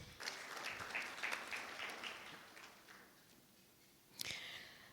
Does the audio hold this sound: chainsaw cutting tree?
no